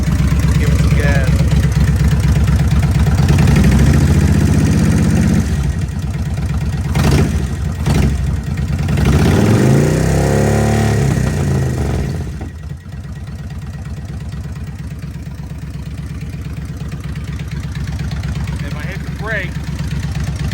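The fuel-injected V-twin engine of a 1997 Kawasaki Vulcan 1500 motorcycle runs loud and close, revving up and down in surges before settling to a steady idle, with voices talking faintly under it.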